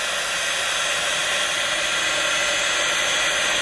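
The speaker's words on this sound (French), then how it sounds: "on prend son heat gun et on vient faire chauffer le cirage comme ceci" A heat gun blows a steady, loud, unbroken roar of hot air, warming shoe polish spread on cardboard to give a faux-leather finish on a stamp album cover.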